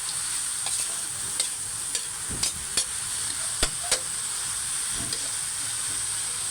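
Pansit bihon noodles stirred in a sizzling frying pan, with a steady frying hiss and scattered scraping clicks of the utensil against the pan, no talking.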